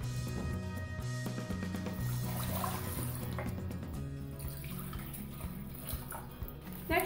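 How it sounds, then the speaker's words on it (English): A can of water is poured into chicken broth in a pan, a close, quiet, continuous splashing and gurgling that lasts several seconds before trailing off. "to this you add 1 can of water."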